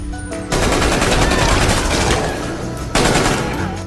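Rapid gunfire in a film scene as a woman shoots guards while escaping, a loud sustained volley of shots with a fresh burst near the end, dense and close.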